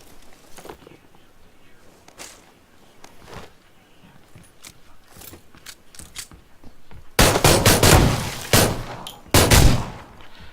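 Gunfire in PlayerUnknown's Battlegrounds, scattered distant shots and footsteps followed by loud, close bursts of automatic fire in two heavy clusters near the end.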